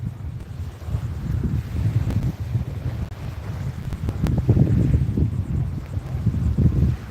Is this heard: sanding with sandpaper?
no